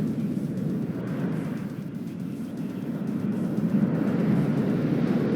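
A Wild Weasel jet roars in during a WARNO multiplayer battle, a steady, loud, low engine rumble holding throughout with no talk.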